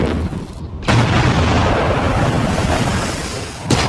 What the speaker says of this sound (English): The explosion is as much as you'd expect in terms of a nuclear blast.